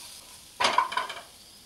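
A short scrape of stirring as ginger-garlic paste and coriander stems are mixed in a pan over low gas for egg bhurji rassa, with a soft sizzle beneath a brief burst of utensil noise and quiet on either side.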